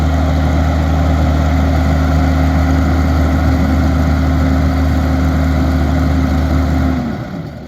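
An old Ford tractor engine runs steadily at a loud, even idle-like drone, close and continuous for several seconds before cutting off abruptly near the end, with no talking.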